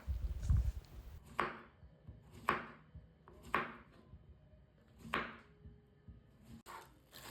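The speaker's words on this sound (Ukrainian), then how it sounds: "я беру два кабачка вагою 1 кг і нарізаю кожен кабачок такими товстими колечками" A knife chops repeatedly through zucchini, slicing thick rings on a cutting board, five or six distinct, evenly spaced cuts close up.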